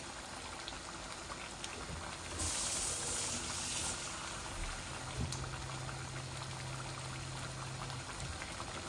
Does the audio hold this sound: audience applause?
no